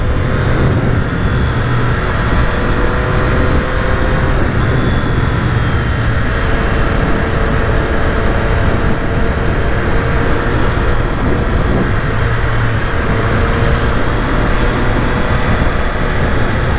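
A 2020 Triumph Street Triple RS motorcycle fitted with Öhlins suspension rides along in third gear. Loud, continuous engine drone and wind roar fill the recording, close up and steady throughout, with no voice heard.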